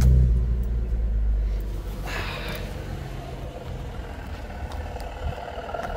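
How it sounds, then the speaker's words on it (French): A car engine rumbles steadily through aftermarket sport exhaust tips, with a loud low purr at first that settles into a softer, continuous idle-like drone with no speech. "il a mis des belles sorties d'échappement qui font un beau petit ronronnement"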